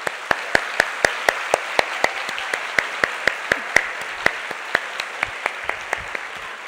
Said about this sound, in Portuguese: Salva de palmas para ela.